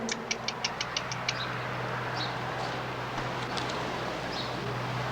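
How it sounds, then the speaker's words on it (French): Old tractor engine idling steadily at a low, even drone, with a few sharp metallic ticks early on and faint birdsong over the top. "ça, c'est les meilleurs tracteurs"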